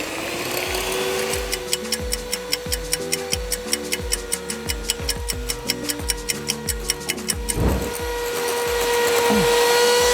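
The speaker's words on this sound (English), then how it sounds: "And now we just whisk away until we get quite stiff peaks." An electric mixer whisks cream with vanilla toward stiff peaks, a steady motor whine under fast, regular ticking clicks of the beaters against the bowl, with a brief louder knock near the end.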